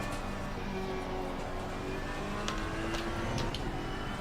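A Ferrari GT3 race car engine in Assetto Corsa Competizione at Paul Ricard drones steadily and loudly throughout, with shifting engine tones and a few brief sharp bursts near the end, no talk over it.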